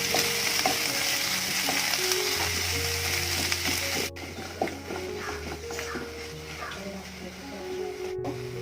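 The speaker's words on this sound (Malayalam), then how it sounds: "ഇനി ഇത് നന്നായിട്ടൊന്ന് വഴറ്റിയെടുക്കാം" Sliced onions sauté in a pan for chicken curry, a steady close sizzle with frequent scraping stirs of a spatula, and a person talks over it for much of the time.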